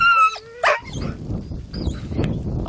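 Greyhounds at a hunting race event bark and yip excitedly, a couple of sharp whining yelps at the start followed by a busy, mid-distance scuffle of barks and outdoor bustle.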